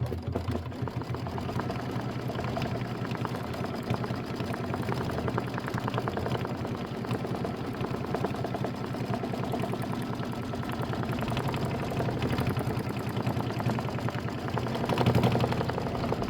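An embroidery machine stitching a quilted pillow block runs in a steady, fast mechanical chatter from start to finish, close and even in loudness, with no voices.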